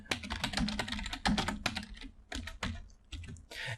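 Typing a code comment on a computer keyboard, a brisk run of close, crisp key clicks in uneven bursts with short pauses between them.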